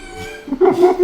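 A voice imitates a chicken with short, warbling clucking squawks that rise in pitch, brief and close.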